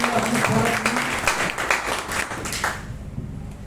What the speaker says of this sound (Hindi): आइए एक बार जोरदार ताली बजाएं आप लोग अपने